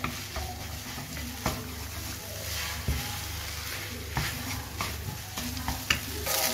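Rice vermicelli stir-fries in a little oil, with a continuous sizzle and scraping stirs of a utensil against the pan, close and fairly loud throughout.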